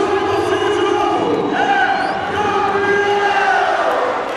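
A packed Maracanãzinho arena crowd stands singing and chanting after Brazil's volleyball gold at the 2007 Pan American Games in Rio, a sustained loud roar of voices with melodic chant lines and occasional whistles.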